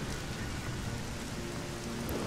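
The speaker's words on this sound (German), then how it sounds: "Ach, ist das nicht schön, wie das hier regnet." Steady, dense rainfall in the fantasy role-playing game Risen during a thunderstorm, a constant close hiss of drops covering the whole moment with no voices.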